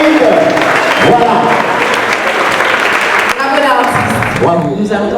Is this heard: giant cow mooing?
no